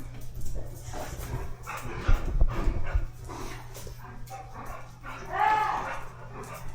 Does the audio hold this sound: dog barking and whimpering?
yes